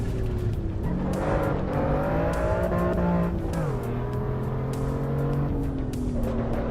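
Car driven in the racing game Assetto Corsa Evo, engine droning and revving through rising and falling gear pitches with shifts, steady and close, over faint clicking, no voices.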